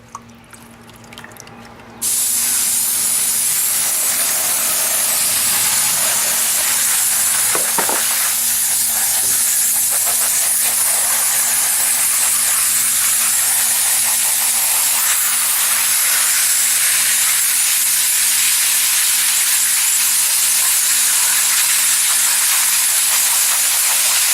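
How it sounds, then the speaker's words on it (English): A hose sprays water steadily through a 20 mesh screen to wash gold panning concentrates into a pan below. A loud, continuous hiss and splash runs for over twenty seconds after a brief quieter start. "put my 20 mesh screen, and then just hose this through"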